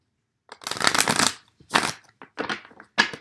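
Tarot cards being shuffled close by: several quick bursts of riffling and sliding cardstock with short pauses between them, and no voices.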